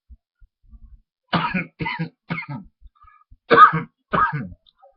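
A string of dry coughs, three quick ones followed by a pause and two more, close and fairly loud with no other sound.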